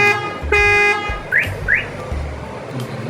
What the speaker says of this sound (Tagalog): Try naman natin yung panic alarm.